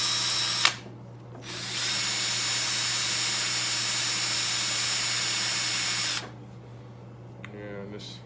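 A power drill boring at an angle into a broken bolt on a 1985 Harley-Davidson FXRS Evo, the bit not very sharp; a loud, steady whine runs for about five seconds after a brief start, then stops, close up.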